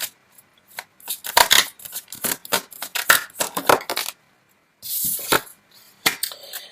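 Tarot cards handled and drawn, a close series of crisp flicks, snaps and shuffling rustles in quick clusters, with a short silent gap midway before more card handling.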